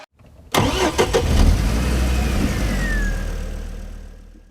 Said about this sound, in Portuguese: Gordon Trulli fazendo aí a sua primeira parada no pit